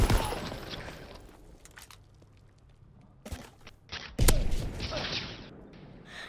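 Gunfire in the WW2 shooter Call of Duty WW2 on the St. Marie map, with scattered sharp cracks and bursts, a louder blast near the middle and dense shooting and impacts toward the end, no talk.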